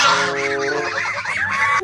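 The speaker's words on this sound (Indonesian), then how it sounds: "ternyata ini angsa teman-teman" A goose honks in a run of loud, nasal, overlapping calls heard close up, with no talking over them.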